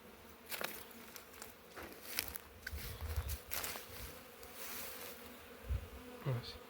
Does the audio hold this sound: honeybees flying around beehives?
yes